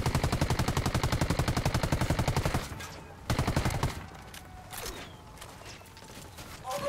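Automatic gunfire rattles in rapid, loud bursts in the co-op video game Ghost Recon Wildlands, with a pause and then a second burst, followed by scattered shots and game sounds.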